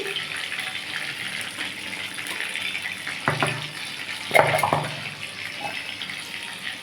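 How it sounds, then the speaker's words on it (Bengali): Dried red chillies crackle in hot oil left over from frying prawns, producing a steady, close hiss with a few louder spitting bursts midway. "সেই তেলেই আমি একটু শুকনো লঙ্কা ফোড়ন দিয়েছি"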